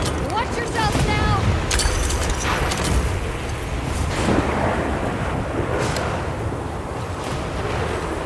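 Thunder rumbles through storm wind in the video game Monster Hunter Wilds during a lightning storm. A loud, steady roar of wind and rumbling fills the whole stretch, with sharper cracks early on, and a voice speaks over it.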